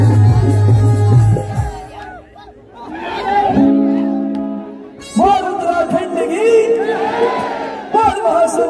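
An audience at a live music show cheers, whoops and chatters in bursts around an announcer speaking over a microphone, loud and close.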